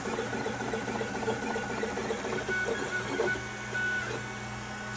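A 3D printer hums through a long print job, steady motor whine with warbling high stepper tones and faint rattling, constant and moderately close with no voices.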